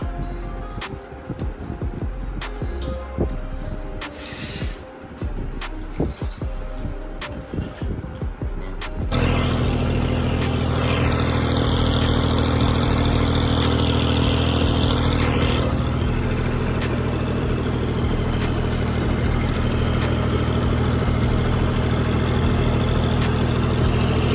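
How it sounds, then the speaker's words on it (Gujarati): A tractor engine runs on the way to a farm field, starting as a rough, clattering rumble and then settling into a loud, steady, continuous drone for most of the stretch, with no clear talk. "આવી ગયા આપણે ખેતરમાં ટ્રેક્ટર લઈને"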